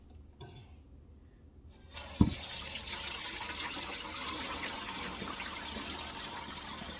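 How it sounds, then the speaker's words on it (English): Liquid from cooked chicken thighs pours through a colander into a bowl, a steady splashing wash of water starting after a sharp knock and continuing evenly to the end. "So all I'm going to do right now is I'm just going to strain this."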